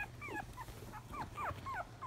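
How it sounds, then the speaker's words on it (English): A puppy gives small high yips and whimpers, several brief calls scattered over a couple of seconds, faint and close against a low steady background hum. "Oh, there's a little bark for Libby."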